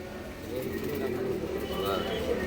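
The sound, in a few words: Andhra and Madras cross-breed pigeons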